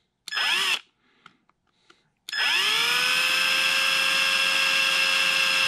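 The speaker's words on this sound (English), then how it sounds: "I'm going to go ahead and drill these holes in and just go real slow." A power drill boring holes in balsa wood for a fishing lure whirs in a short burst, pauses amid faint handling clicks, then spins up again and runs in a long, steady, high-pitched whine.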